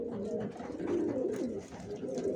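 Racer pigeons coo in a steady, overlapping murmur of low throaty calls, close and continuous with a soft rise and fall, no one talking.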